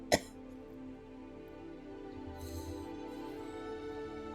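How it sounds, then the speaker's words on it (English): A single short cough at the very start, close and fairly loud, then a quiet stretch with only faint background sound. "Also, I really need to cough."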